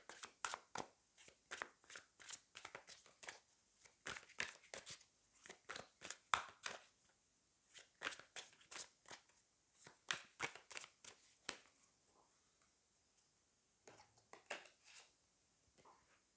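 Tarot cards are shuffled by hand in quick bursts of crisp riffling and slapping, close and fairly quiet, with short pauses between runs and no talking.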